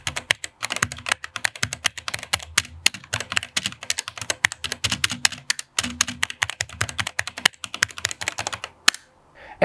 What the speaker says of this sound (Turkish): Evet, klavyemizin tuş sesi de bu şekildeydi.